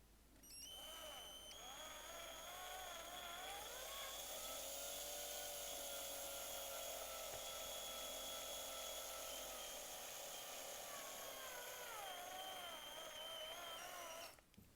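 A power drill bores out the rear rivet of a Hot Wheels Fast & Furious Dom's RX-7 die-cast car, giving a steady high-pitched whine that holds for about fourteen seconds with slight shifts in pitch and no talking over it.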